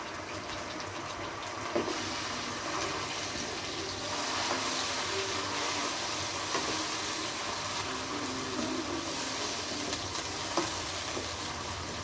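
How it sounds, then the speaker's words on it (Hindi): Garlic and ginger paste frying in a pan for palak paneer, a steady loud sizzle with scraping stirring strokes running throughout, close up and without talk. "एक से 2 मिनट हम इसको चलाएंगे और फिर इसमें पूरा मसाला ऐड कर देंगे।"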